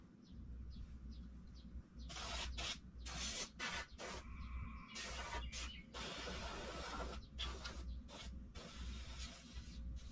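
Brake cleaner sprayed in repeated hissing bursts of varying length during an oil change on a 2022 Yamaha R7 motorcycle, close and fairly loud over a low steady rumble, with short clicks between sprays.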